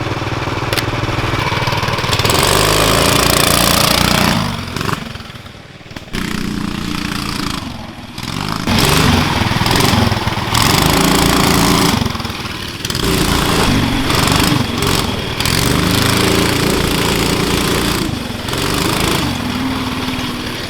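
A small, buzzy twin 18hp engine buggy revs up and down loudly nearby as it is driven around, rising and falling in pitch with brief dips.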